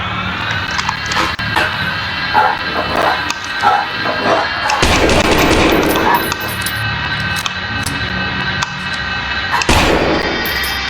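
Sharp bursts of gunfire in the game Lost in Vivo, in the sewers, crack out over a busy, noisy background of game sounds. The shots are loud, and a few heavy blasts stand out.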